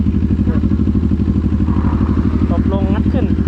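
A CFMOTO 650NK motorcycle engine runs with a loud, close, steady throbbing pulse, and a voice is briefly heard over it.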